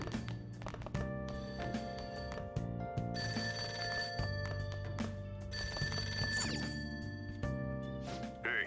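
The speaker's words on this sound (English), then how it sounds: "That ringing sound isn't coming from my cell phone. I hear it coming from downstairs." An old-style telephone rings downstairs in Persona 5 Royal, a repeated electronic trill under game music, moderately loud and sustained across the whole stretch.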